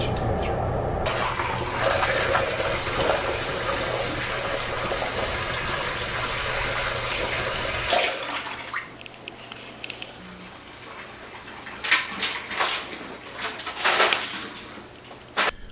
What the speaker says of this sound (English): I add 1 more gallon of water and then top it off until I hit my 5 gallon mark